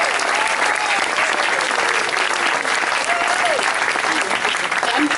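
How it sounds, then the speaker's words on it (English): A crowd claps hard and continuously in thanks at a live event, a dense, loud wash of applause that holds steady throughout without breaks. "we are going to clap really hard in thanking everybody that has participated in this"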